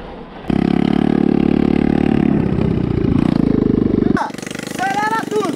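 A mini quad bike engine starts up abruptly and revs at a loud, steady buzzing pitch for several seconds, then drops off as excited voices and shouting take over near the end.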